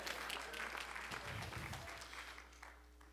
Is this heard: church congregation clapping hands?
yes